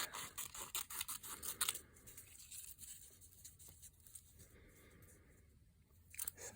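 Scissors snip through marbled paper at close range, a few crisp crunchy cuts early on, then quieter scraping and handling in a hushed room.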